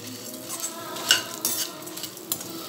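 Brinjal and green chillies fry hard over high heat, a loud continuous sizzle with quick stirring scrapes and sharp clinks of a metal spoon against the pan.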